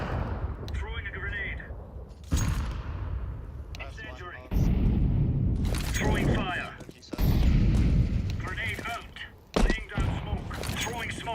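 Grenade and flashbang blasts in a first-person video game shooter, a run of loud booming explosions and gunfire bursts one after another, with a streamer talking over the action.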